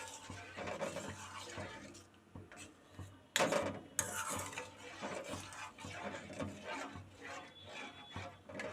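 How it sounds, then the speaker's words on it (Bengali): A utensil scrapes and knocks against a cooking pot as milk is stirred for gokul pithe, irregular close clinks and rubbing with a couple of louder clatters, no talking over it. "দুধটাকে এখন খুব নাড়তে হবে।"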